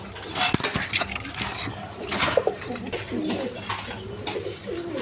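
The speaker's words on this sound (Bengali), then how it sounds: "দেখেন একদম গররা কবুতর, দুটা বাচ্চা সহ" Rajgolla pigeons, including a breeding pair with two chicks, coo steadily on a farm, with soft wing flutters and some light pattering around them, fairly close and with no talking.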